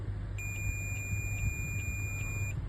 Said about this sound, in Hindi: कंटिन्यू बीप आ रहा है